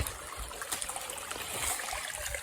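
Gutter water flowing out of a buried drainage pipe at a converted cow shed turned stable yard, a steady close trickling and splashing rush that continues without pause.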